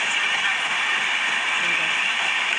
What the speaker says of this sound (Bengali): ব্রিজ উপর দিয়ে ট্রেনটা যাচ্ছে, আমরা ট্রেনে বসছি